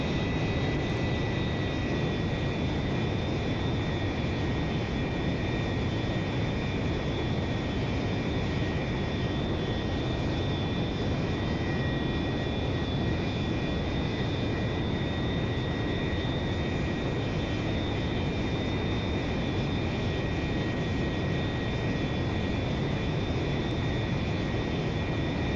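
Su-27 jet engines idling at low throttle in a flight simulator, a steady, loud broadband roar with constant whining tones running unbroken throughout, no voices.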